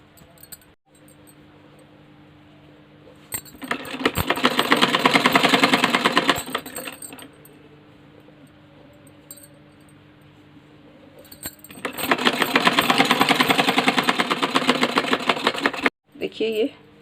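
A sewing machine stitches a folded seam on a kali petticoat in two loud, steady runs of several seconds each, separated by quieter pauses with faint handling noise.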